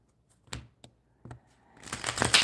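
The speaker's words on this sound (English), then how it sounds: "Couple more shuffles here." Tarot cards are shuffled by hand in a few sharp, separate riffles and taps, then a longer, denser papery flutter of cards, close up and fairly quiet, with no talk.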